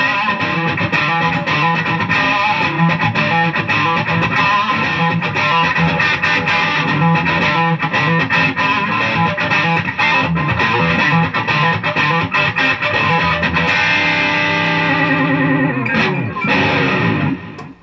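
Mexican Stratocaster electric guitar bought at a pawn shop, played loud and continuous through effects with distortion and a chorus-like shimmer, sustained chords and notes ringing throughout before fading near the end.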